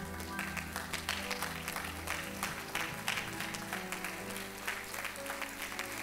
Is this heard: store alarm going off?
no